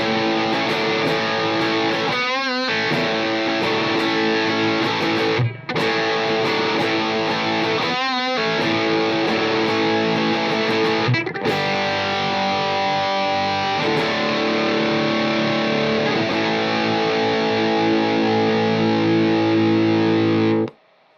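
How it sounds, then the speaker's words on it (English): Electric guitar played through an MXR 78 Distortion Super Badass Custom pedal, a loud, sustained distorted tone with held chords and a few brief breaks and bends, heard alone. "MXR 78 Distortion Super Badass Custom."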